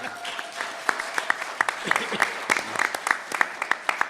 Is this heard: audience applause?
yes